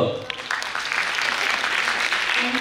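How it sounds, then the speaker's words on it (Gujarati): Audience applause after a make-up performance in Rajpipla: a broad, steady wash of clapping sustained throughout at moderate level, with faint voices mixed in at the start. "મેકઅપ સારો લાગ્યો હોય તો મને તાળીઓ પાડજો"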